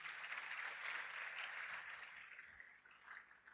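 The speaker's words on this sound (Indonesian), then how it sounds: "mohon aplaus untuk Bapak Sulana dari Bandung Bapak Ibu" An audience at a business seminar applauds, a soft, distant, steady wash of clapping that fades slightly toward the end.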